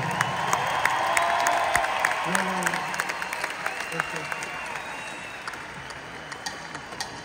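A concert crowd applauds the mariachi band at a singer's last concert, clapping and a few whoops fading gradually over several seconds, with faint voices and some hum underneath.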